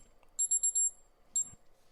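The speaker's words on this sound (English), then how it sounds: "Oh, we got alarms going off." Smoke alarm chirping during a sports talk podcast, a quick series of four sharp high beeps followed by one more beep about a second later, faint and heard with no talk.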